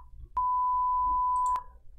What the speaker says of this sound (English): You'll need a censor beep.